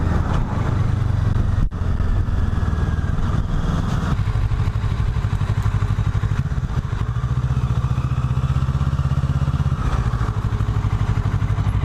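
A Kawasaki Ninja motorcycle riding along a road, a loud steady engine drone with continuous wind rush and a brief clatter, held near and constant throughout.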